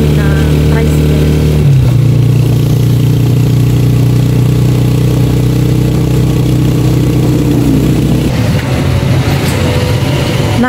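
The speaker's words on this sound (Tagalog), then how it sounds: "Masakay na po kami na tricycle." A tricycle engine runs steadily through a ride to a town market, a loud continuous low drone with a slight shift in pitch near the start and again near the end, while people talk over it.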